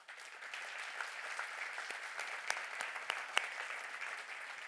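Audience applause welcoming a conference speaker at a presentation, a steady wash of clapping from a moderately distant crowd, with a few sharper individual claps standing out near the end.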